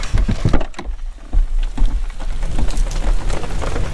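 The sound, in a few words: heavy rain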